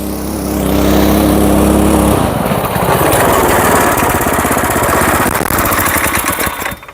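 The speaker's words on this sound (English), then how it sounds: "a go-kart with a stock Predator 212 engine, a Ford reverse gearbox, and a torque converter" A go-kart with a stock Predator 212 small engine and torque converter runs loud and close, starting with a steady idle drone before revving into a rough, buzzing, rattling roar that holds for several seconds.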